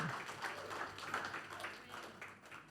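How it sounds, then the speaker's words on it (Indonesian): Audience clapping and applauding during a church sermon, a dense, steady patter of many hands sustained at moderate volume for a few seconds without speech. "Tepuk tangan."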